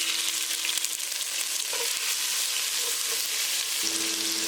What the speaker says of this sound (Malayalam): ഇതിലേക്ക് ഒരു സവാള നീളത്തിൽ അരിഞ്ഞത് ഇട്ട് കൊടുക്കാം.